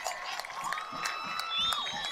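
A crowd at a boys' varsity high school football game cheers and whoops after a 41-yard touchdown, a short burst of scattered shouts at mid-distance with a commentator's voice layered over it.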